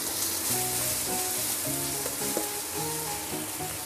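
Minced garlic frying in a pan with onion already in it, a dense continuous sizzle and hiss close up, under faint background music.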